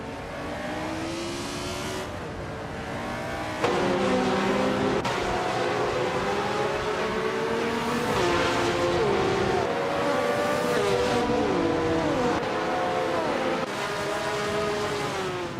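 A 1982 Rondo M382 race car in a racing video game, engine roaring continuously with repeated gear shifts and rising revs, loud and close for the whole stretch.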